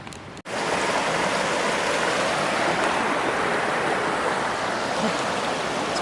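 A stream flows as a dense, steady rush close by, with continuous broadband water noise after a brief dip at the start, with no voices.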